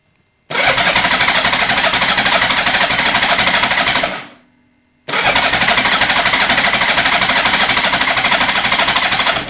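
A crashed Honda Goldwing motorcycle's starter cranks the engine in two long, loud, steady bursts with a short pause between them, and the engine never fires.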